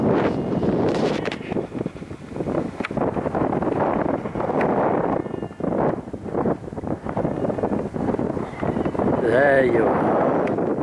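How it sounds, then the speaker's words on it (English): Wind buffets a microphone outdoors in a field during metal detecting, a loud rumbling roar in continuous gusts, with someone talking over it and a brief detector warble near the end. "I'm just going to point into the wind"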